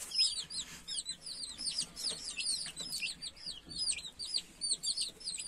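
Hint and Splash Wyandotte chicks peep in rapid, high overlapping chirps alongside soft hen clucks, a busy close-up chorus with no speech.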